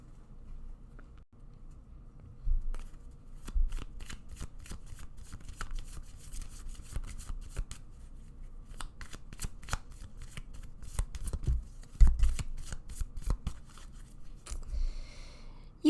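Tarot cards being shuffled by hand during a pick-a-card reading, a steady run of crisp riffling flutters and soft slaps, close and fairly quiet, continuing for most of the stretch with a brief pause near the end.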